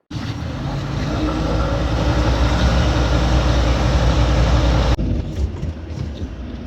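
A heavy haulage truck with a manoeuvre trailer pulls out of a yard, a loud, steady low engine rumble heard from inside the cab that continues for several seconds.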